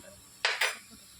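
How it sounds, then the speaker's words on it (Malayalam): Raw chicken tipped into a metal cooking pot for a home-style chicken curry, making two quick, close clattering hits in rapid succession that fade into a quiet kitchen. "നമ്മുടെ ചിക്കൻ ഇപ്പം നമ്മൾ ഇടാൻ പോവുകയാണ്."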